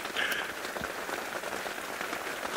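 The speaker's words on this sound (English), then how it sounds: "Oh, and the rain's getting harder again." Heavy rain falling steadily in the outdoors during a safari live broadcast, a dense even hiss that stays constant throughout with no voices.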